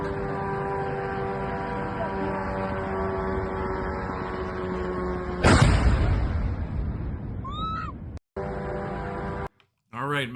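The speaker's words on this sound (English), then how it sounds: "massive explosion when we see a Ukrainian drone getting intercepted, most likely by a Panzer S-1 air defense system" An explosion bursts mid-air as air defense intercepts a Ukrainian drone over Taganrog, a sudden loud blast rising over a steady engine drone and then fading, followed by brief cutouts and chirping noises.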